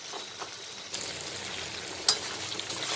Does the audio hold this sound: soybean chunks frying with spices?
yes